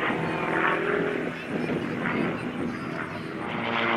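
A warbird airplane performs aerobatics at an airshow, stalling and tumbling over the top of a maneuver; the engine drone holds steady and fairly loud throughout, with a rough propeller hum and faint wind.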